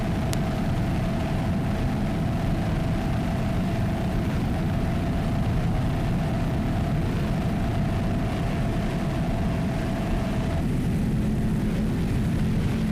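A 38-foot Dunson racing powerboat roars steadily at a distance during a factory-class offshore race, a constant broad engine drone with a faint tonal whine, and no talk.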